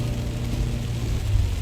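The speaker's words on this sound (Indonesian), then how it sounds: "Masih sangat deras hujan ini" Heavy rain pours steadily as a broadband roar with a low rumble beneath, continuous and even, with no talk.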